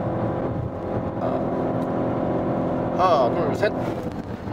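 A Peugeot 5008 SUV with a 1.2 PureTech engine braking hard from 100 km/h, heard from inside as steady road and engine rumble that rises, then fades into a short squeal while a voice counts aloud.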